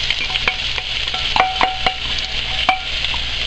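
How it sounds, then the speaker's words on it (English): Onions tipped into a hot pan of shrimp cooking for asparagus shrimp scampi, giving a steady close sizzle with a few sharp clinks and stirring scrapes; no voices. "And we're going to add our onions."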